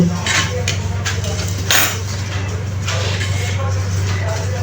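Pierced eggs being rubbed and tossed with salt in a bowl for egg korma, soft clinks and shuffling knocks close by, over a steady low hum in a home kitchen.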